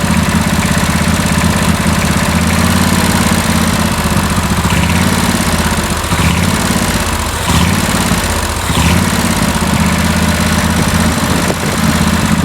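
A John Deere LT166 lawn tractor engine runs off choke with a loud, close, steady throbbing drone, its low pulsing tone holding throughout with slight wavers.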